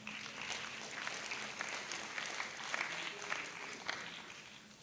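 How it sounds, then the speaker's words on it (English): Audience applause at a foundational learning exchange event, steady clapping from a crowd of many hands sustained throughout without a break. "A round of applause."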